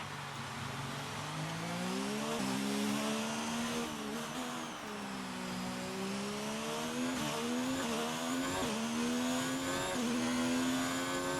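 A Formula 1 race car engine in a video game revs steadily and accelerates through the gears, its pitch rising and dipping with each shift. The engine stays close and continuous throughout, with no voices.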